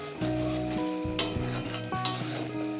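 Masala with salt and sugar is stirred and fried in a pan for a chana paneer dish, a steady sizzle under repeated scraping strokes of a spoon, close and clear.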